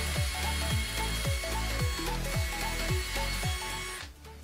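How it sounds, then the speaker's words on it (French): A drill bores into a piece of wood in short, rhythmic pulses, each a falling motor whine repeated about eight times in quick succession, close by, then it stops abruptly. "On perce."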